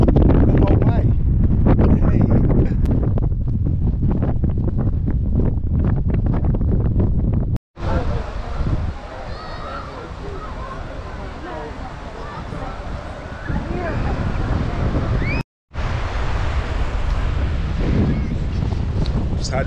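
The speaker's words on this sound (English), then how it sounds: "So I'm going to have the wind in my face the whole way." Strong wind on the Causeway Coast of Northern Ireland roars across the microphone in heavy, continuous gusts, cut by two brief silent gaps, while a voice talks at times beneath it.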